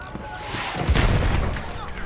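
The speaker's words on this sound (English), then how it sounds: "I think that's a mortar land ship up there." Mortar landship firing in a battlefield video game, a burst of heavy booming artillery-like blasts rising around the middle of the short stretch, with muffled rumbling and gunfire texture throughout.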